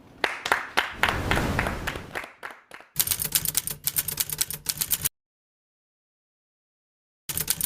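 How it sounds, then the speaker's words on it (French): A studio audience on a television talk show applauds to welcome the first guest, loud dense clapping in two bursts that breaks off into silence before briefly resuming. "je vous propose d'accueillir et d'applaudir notre premier invité"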